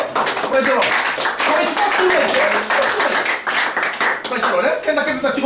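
A church congregation claps as an offering to Jesus, loud rhythmic hand clapping mixed with singing or voices throughout.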